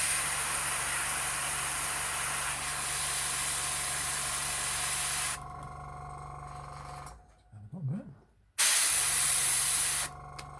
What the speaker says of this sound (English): Airbrush is being a bit of a pain in the ass tonight.